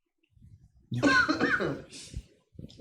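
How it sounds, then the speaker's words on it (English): One person coughs hard a few times, close to the mic, after a soft breath, with a little throat noise at the end. "Coughing."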